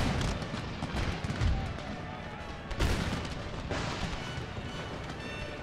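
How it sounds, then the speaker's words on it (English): Cannons fire canister shot in the Empire: Total War battle, with dull booms around the middle of a dense, rumbling roar of distant gunfire that runs throughout. "I am very glad that I had this hill and this cannon for canister shot"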